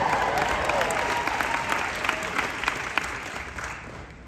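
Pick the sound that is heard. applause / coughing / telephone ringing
applause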